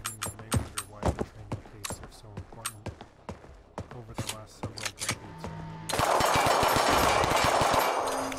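Heckler & Koch USP .45 ACP pistol fired in the game Receiver, a rapid series of sharp gunshots in quick succession, loud and close, ending in a dense burst of noise.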